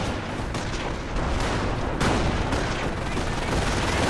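Battle gunfire in the strategy game Company of Heroes: dense, continuous rattle of rifles and machine guns with booming impacts, loud and unbroken throughout.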